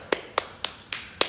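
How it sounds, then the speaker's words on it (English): Five sharp hand claps in an even, quick rhythm, each crisp and close, with quiet pauses between them and no voices. "I'm gonna do my Candy Birds clap."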